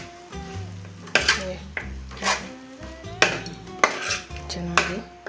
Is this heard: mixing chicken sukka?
yes